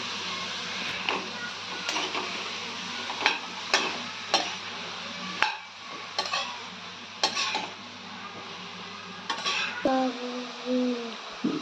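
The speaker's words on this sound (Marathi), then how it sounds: "कमी स्लो गॅसवर आपण थोडंसं याला भाजू" Grated carrot for halwa roasts in a pan over a low gas flame, giving a soft sizzle under repeated spoon scrapes and clinks against the pan, close and fairly quiet, with a brief tonal sound near the end.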